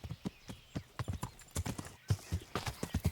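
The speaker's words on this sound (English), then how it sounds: "allow your hooves to partake in the sound of clippity-clop" Horse hooves clip-clop in a steady, quick rhythm while a mounted horse moves along in a video game, close and fairly loud with a brief whinny-like tone at times.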